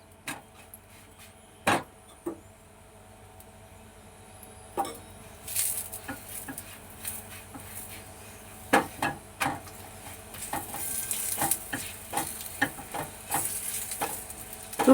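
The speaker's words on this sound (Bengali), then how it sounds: "দু পিঠই লাল করে ভালো করে ভাজতে হবে।" Sattu puri fries in oil in a home kitchen, a quiet background sizzle broken by scattered sharp pops and occasional utensil clicks, growing busier toward the end, with no talking.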